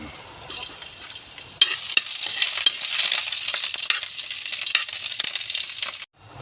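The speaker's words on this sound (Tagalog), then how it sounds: "Ito guys, igisa natin ng luya." Ginger hits hot oil in a pan with a sudden loud sizzle that holds steady and bright for several seconds, dotted with small crackles and stirring scrapes, then cuts off abruptly.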